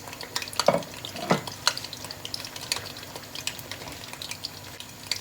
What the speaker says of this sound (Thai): ผัดให้ต้นหอมยุบจ้า